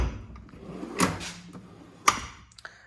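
A drawer of a Mac Tools tool box holding air ratchets, air chisels and impact wrenches slides and clunks, with a few sharp metallic knocks and rattles close by and no talking.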